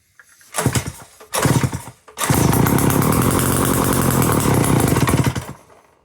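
Restored Sears chainsaw engine sputtering in two short bursts, then catching and running steadily loud and close for about three seconds before cutting out, with no talk.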